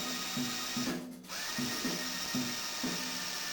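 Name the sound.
power drill drilling countersink holes in board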